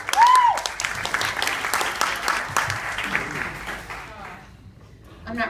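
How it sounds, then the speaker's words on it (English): A crowd at a live show gives a round of applause for a dancer, loud at first with a whistle near the start and then thinning out, fading toward quiet before a last burst at the end. "please a nice round of applause for the dancing sensation known as Daughter."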